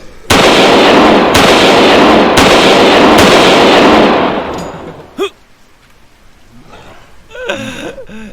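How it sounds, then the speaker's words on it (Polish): Four loud, booming cannon blasts fire in quick succession in the video game Lure, then give way to quieter clatter and scattered noises. "Odpalamy armatę!"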